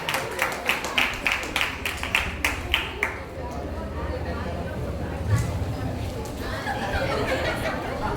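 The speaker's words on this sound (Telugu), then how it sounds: "చప్పట్లు కొట్టండి." A gathered audience at a church gathering claps in short rhythmic bursts for a few seconds, then the applause gives way to murmuring talk and a noisy room.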